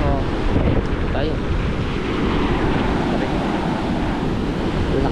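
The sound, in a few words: big ocean waves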